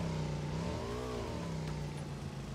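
Motorcycle engine in the PUBG video game, a steady mid-pitched drone with a brief rise and fall in pitch as it revs, close and continuous throughout.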